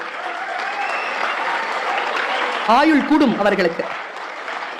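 Men in an audience at a Tamil talk clap in a dense burst of applause, and a voice speaks over the clapping partway through.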